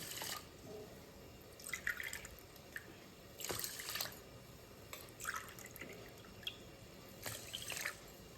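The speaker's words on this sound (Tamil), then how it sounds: "தண்ணி விட்டுக்கிறேன்" Water is poured in several short, quiet splashing bursts into a container of milk for sweet pongal, faint and close, with pauses between pours.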